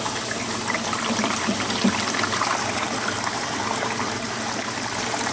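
Steady rush of water flowing through the filter pipe of a self-cleaning aquaponic fish rack, a continuous close trickling stream with no pauses.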